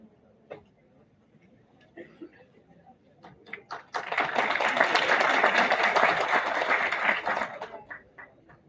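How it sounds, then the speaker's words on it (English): At an international academic conference, a few scattered claps give way to a burst of full audience applause lasting about three seconds before thinning back to isolated claps. "Let's have a huge round of applause for Vishal Mavi sir"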